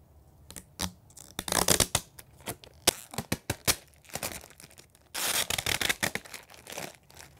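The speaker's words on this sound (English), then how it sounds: "Our first step is gonna be removing our protective film." Protective film being peeled off a Unisub sublimation plaque: a run of crisp, close crinkling and tearing bursts with short pauses between them, loud against a quiet room, with no talk.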